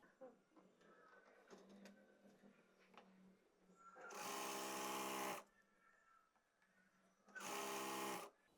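A sewing machine stitches elastic onto a palazzo in two loud, steady runs, the first about a second long and the second shorter, after quieter handling sounds and faint background noise.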